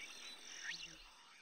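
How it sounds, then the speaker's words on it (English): Frogs croak faintly and steadily in a low chorus, with one brief rising call standing out, with no talking. "Frogs."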